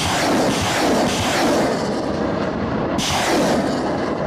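American M777 howitzer artillery near Kurakhove: a loud, sustained broadband roar with two heavy onsets, one at the start and another about three seconds in, each followed by a long rumbling decay.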